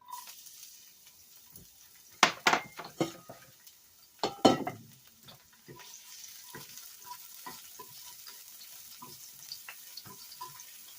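Garlic hits hot oil in a pan and keeps sizzling steadily, with a few loud clatters and stirring scrapes early on before the frying settles into a continuous hiss.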